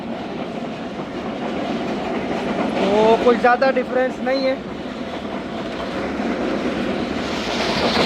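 A Karachi Express train runs fast along railway tracks with a steady rumble and rhythmic clickety-clack of the wheels. Someone talks over the noise throughout.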